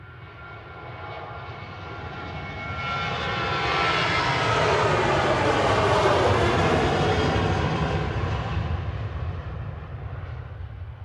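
A Boeing 737-800 jet departing Manchester Airport roars past, its engine noise swelling to a loud peak mid-pass with a sweeping whine, then easing slightly as it climbs away; no voices.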